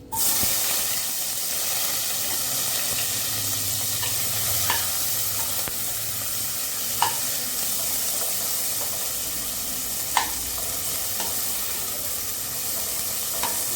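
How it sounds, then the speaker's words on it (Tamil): Onions sautéing in a pan for vada curry, with tomato and green chillies set aside, give a steady close sizzle broken by a few sharp scraping clicks of a stirring spoon. "வெங்காயம் போட்டு வதக்கிக்கலாம்"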